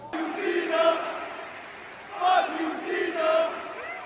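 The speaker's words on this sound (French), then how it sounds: "Et là, John Cena nous a gratifié d'une magnifique promo de plus de 15 minutes qu'on a évidemment applaudi." A large wrestling crowd at a WWE Raw event in Brussels cheers and roars in swelling waves, loud and continuous, with peaks near the start and again partway through.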